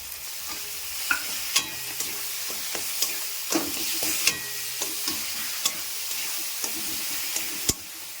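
Coriander powder, cumin and chopped tomato sizzle steadily in a pan of oil for palak paneer, with a constant bright frying hiss and a few sharp spatula scrapes and taps over it.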